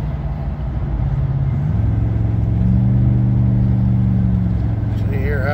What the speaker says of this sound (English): you should be able to hear the engine staying in the high gear